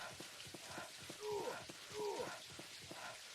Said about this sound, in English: I'm taking damage from the rain now